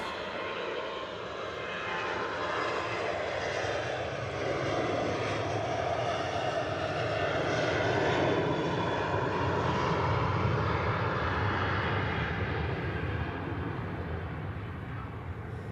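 Aircraft engines roar steadily at Manchester Airport, a loud sustained drone of a passing airliner that swells and holds for the whole stretch, with no talk over it.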